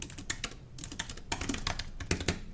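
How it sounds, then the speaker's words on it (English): Typing on a computer keyboard while coding, rapid irregular clicks and key taps close to the microphone, fairly quiet, with no voices. "I'm just literally typing in ASCII art generator."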